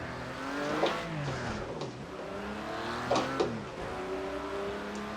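A race car in Project CARS 2 driving carefully around a snowy track, engine revving up and down through gear changes with rising and falling pitch, a few sharp transient clicks, close and steady.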